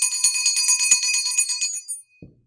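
A bright bell rings with a rapid, trembling shimmer for a couple of seconds, then fades out, followed by a soft thump.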